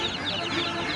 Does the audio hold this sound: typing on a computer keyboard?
no